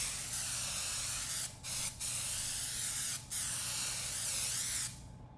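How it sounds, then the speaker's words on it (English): A can of 3M super adhesive sprays in sustained hissing bursts with a few quick breaks, close and steady, before cutting off abruptly, applied during reupholstery of an antique wicker chair. "Just gonna take a little bit of 3M super adhesive spray. Just gonna spray it on here."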